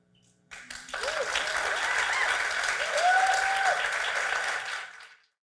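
Sustained applause from an audience at a live storytelling event fills the room for several seconds, rising in steady claps and fading out, with faint voices and cheers woven through.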